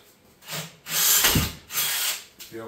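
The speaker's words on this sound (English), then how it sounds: "See how quick that went through once I drill a small hole?" A power drill bores through a small pilot hole while building radiator mounts for an LS-swap Suburban: several close, loud whirring bursts, the middle one longest, with a grinding bite as the bit cuts through.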